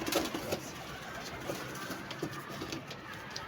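Large pigeons coo softly in a loft, low repeated calls mixed with rustling and faint background noise, close by and steady throughout.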